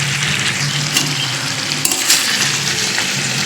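Meat fries in released oil while being stirred in a pan, a loud continuous sizzle with occasional scraping clinks of the utensil, close and with no talking.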